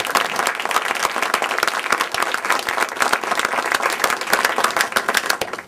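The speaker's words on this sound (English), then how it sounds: "a big round of applause for your state's attorney candidates." A room full of people gives a sustained round of applause for state's attorney candidates at a political gathering, dense clapping holding steady and loud for several seconds with no talking over it.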